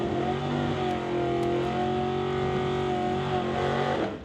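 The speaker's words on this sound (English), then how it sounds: "One of those cars a fair bit louder than the other one when it comes to the burnouts." Drag racing cars, an MFB custom aluminum jet Regal and a Camaro, do burnouts at an NHRA Summit ET bracket race, with loud, sustained, high-revving engine roars that hold steady throughout.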